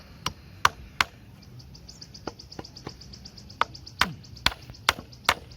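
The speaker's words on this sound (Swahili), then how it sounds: "Piga hapa msumari mmoja." A nail being hammered into wood while building a wooden school desk: a series of sharp, irregular knocks, some louder and closer, with short gaps between strikes and no talking.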